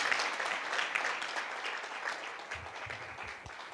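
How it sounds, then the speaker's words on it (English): Conference audience applauding steadily at a women's leadership event, a dense continuous wash of many hands clapping that eases slightly toward the end, with no talk over it. "Another round of applause"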